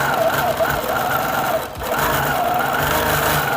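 A quilting sewing machine stitches feathers on a hoop frame with a steady, close mechanical whir. It briefly dips and slows near the middle, then resumes at a constant pace.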